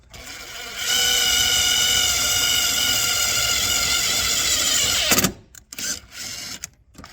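A DeWalt power drill boring a hole for a DIY battery holder: a brief low start, then a loud steady high whine for about four seconds that cuts off abruptly, followed by a few short clunks and bursts of handling noise.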